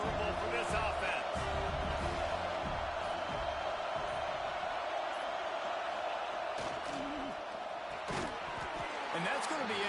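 Dense stadium crowd roar at a USC college football game, a steady loud wash of voices with scattered sharp claps and thuds, continuous throughout with no clear talk on top.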